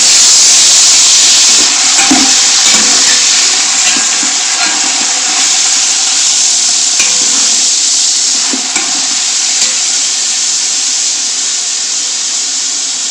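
Chicken karahi cooks in ghee in a hot pan, a loud continuous sizzle and hiss with scraping stirs and occasional spoon knocks, close and without talk.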